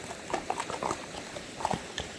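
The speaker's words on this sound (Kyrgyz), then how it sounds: "Так, мына атты көрүп турасыздар достор." Hooves of a horse for sale in Kyrgyzstan clopping on the ground, a few soft, uneven close hoof beats over a low background hum.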